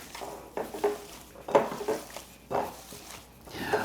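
Salt, pepper and garlic powder get mixed in a bowl with a utensil, a few close, irregular clinks and scrapes against the dish at moderate volume, with no talk.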